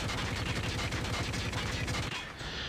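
Kilo 141 assault rifle fired on full auto in a video game, a steady rapid stream of shots for about two seconds before cutting off, followed by a faint fading tail.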